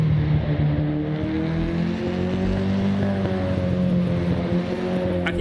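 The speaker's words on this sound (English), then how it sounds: "God damn, the engine still sounds old as hell." In the Assetto Corsa racing game, a Ford Escort's engine gives a steady, loud, buzzy drone with rising harmonic tones as it pulls through first gear. It plays alone, with no voices.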